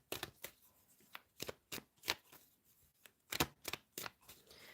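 Tarot cards being shuffled and drawn, a run of sharp, crisp riffles and snaps in uneven bursts, close and clear, with no talking.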